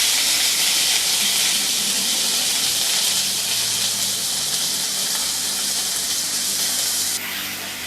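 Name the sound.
ginger garlic paste sizzling in hot pan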